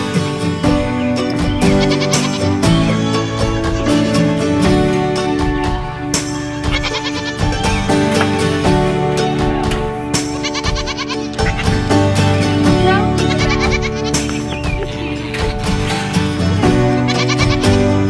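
Baby goats bleat repeatedly and loudly at close range in a farm pen around weaning time, their overlapping calls filling the whole stretch with little pause.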